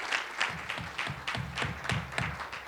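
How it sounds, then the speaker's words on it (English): An audience applauds a lecturer after his introduction, a fairly faint, rhythmic clapping that pulses in regular waves as if the crowd claps in unison, with no speech over it. "please give a robust round of applause to Dr."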